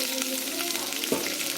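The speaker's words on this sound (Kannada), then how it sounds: "ಕಲರ್ ಬರೋವರೆಗೂ ಈ ಥರ ಚೆನ್ನಾಗಿ ಎಣ್ಣೆಯಲ್ಲಿ ಫ್ರೈ ಆಗಬೇಕಿದು." Amla (Indian gooseberries) fry in oil for pickle, giving a close, steady crackling sizzle with a brief stirring scrape.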